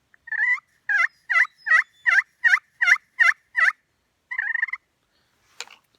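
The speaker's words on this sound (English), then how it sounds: "now, that's going to be your basic yelp" Basic turkey hen yelp made on a slate pot call: a steady run of about nine evenly spaced, sharp two-note yelps, then one longer raspy yelp and a faint scratch, close and clear with no talking.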